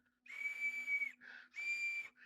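An emergency whistle is blown in two long, shrill, loud blasts, each followed by a brief lower chirp, against an otherwise quiet background.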